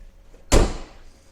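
Door of a Polaris Ranger 1500XD utility vehicle shutting once with a single solid, close thud, then quiet.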